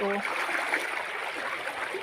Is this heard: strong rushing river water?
yes